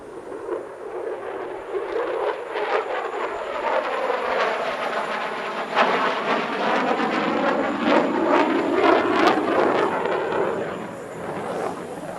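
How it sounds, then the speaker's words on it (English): An F-16E Desert Falcon fighter jet in a solo flying display at the Dubai Airshow 2025, a powerful roaring engine that swells and sweeps past, loud and sustained throughout with a rumbling, phasing texture. "This is the F-16E Desert Falcon"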